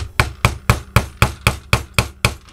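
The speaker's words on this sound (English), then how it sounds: "it seems to be sensitive to getting hit by a hammer" A hammer striking metal while working on a homemade mains full-bridge rectifier: nine sharp, evenly spaced blows in quick succession, close and loud, with no talking.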